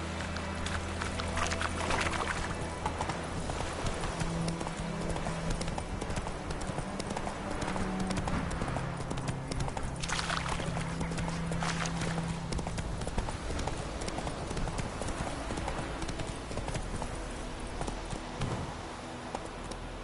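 Horse hooves clip-clop steadily in The Witcher 3 under a dense game soundscape, moderately loud with a rhythmic gait and occasional voices over the top.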